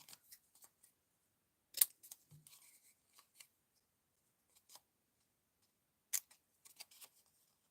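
Scissors snip through paper at a slight angle while making a Halloween flatmail craft: sparse, quiet, close-up cuts and rustles, including a few sharper snips, separated by near-silent pauses.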